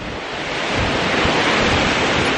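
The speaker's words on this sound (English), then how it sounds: "we're getting huge waves come ripping through the side of this" Huge ocean waves crash and surge beside the Timang Beach gondola, a loud, steady roar of surf mixed with wind buffeting the microphone, with no talking.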